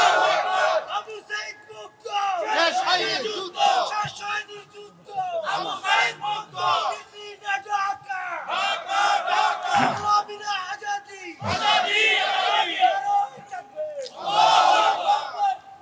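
Large crowd at an outdoor Islamic sermon shouting a takbir response in unison, loud massed voices rising in several surging waves and yells that fill the whole stretch.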